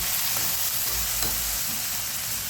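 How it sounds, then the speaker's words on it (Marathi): Brinjal pieces frying in a pan with a pinch of asafoetida, giving a steady dense sizzle and crackle at close range with no talking. "आपले वांगे छान असे फ्राय होतात"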